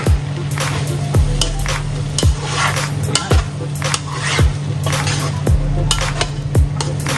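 Bopis with vinegar cooking in a pan, with a steady low sizzle under recurring clanks and scrapes of a utensil against the pan, close and fairly loud throughout.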